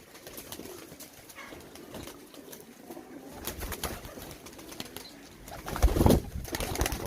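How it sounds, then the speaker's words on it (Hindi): Pigeons coo softly amid a busy flock, with low murmuring calls and rustling, and a louder burst of cooing near the end. "माशाल्लाह एक से बढ़कर एक कबूतर हैं"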